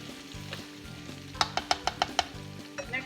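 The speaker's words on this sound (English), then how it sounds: "I'm just going to be standing here stirring this" Red potatoes frying in a pan on a stovetop, with a steady sizzle under a brief run of six sharp scraping knocks from stirring, close and fairly loud.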